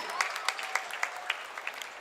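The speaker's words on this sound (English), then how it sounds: "So I can hear a few claps now." An audience at a college gathering gives a handful of sparse, evenly spaced claps, about eight in two seconds, fairly close and modest in volume.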